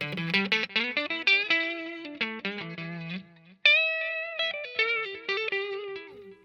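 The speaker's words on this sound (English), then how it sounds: "A lot of classic lead guitar work has just a slight little bit of echo" Lead electric guitar with a reverb/echo pedal switched on plays a quick run of picked notes, then a held bend and more phrases, each note trailing a soft echo tail; fairly quiet and alone.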